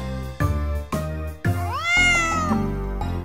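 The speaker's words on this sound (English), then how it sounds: "A cat is in the barn" A cartoon cat meows once, loud and close, with a rising and falling cry over the bouncy music of a children's farm song set in a barn.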